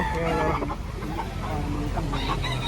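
Chickens clucking and a rooster crowing amid the bustle of a rain-soaked Lipa poultry market, a steady busy din of birds and crowd noise with no clear talk.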